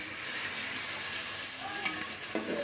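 Water poured into a hot pan of frying oil makes a steady, close hiss and sizzle, with small spits and crackles popping through the continuous frying noise.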